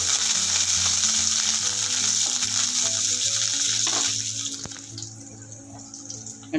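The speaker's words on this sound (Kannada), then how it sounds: "ಬಾಣಲೆ ಇಟ್ಕೊಂಡಿದ್ದೀನಿ. ಸ್ವಲ್ಪ ಎಣ್ಣೆ ಹಾಕ್ತೀನಿ. ಇದಕ್ಕೆ ಹಸಿಮೆಣಸಿನ್ಕಾಯಿ ಹಾಕ್ತೀನಿ" Green chillies fry in oil in a pan for a homemade chilkarve leaf chutney, giving a loud, steady close-up sizzle that eases off and quiets toward the end.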